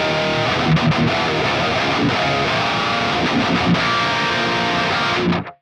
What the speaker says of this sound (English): The last tone we're going to do in this video is going to be the boosted version of the FAS Stealth Blue